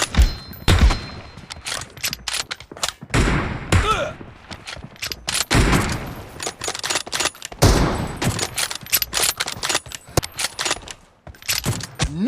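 Rapid sniper rifle and gunfire blasts in the video game PUBG crack in dense, irregular bursts with sharp loud transients and brief gaps, alongside mechanical clatter and thuds, with game voices faintly mixed in.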